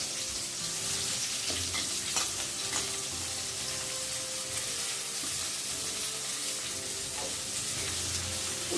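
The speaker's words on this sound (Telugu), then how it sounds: "ఇప్పుడు బాగా తాగిపోయిన నూనె, ఆవాలు చిట్లిపోయినాయి. ఈ ఎర్రగడ్డలు తరిగేవి ఇందులో వేసేయాలి." Chopped onions fry in hot oil with popped mustard seeds for a bitter gourd curry, giving a soft, continuous sizzle with faint stirring under background music.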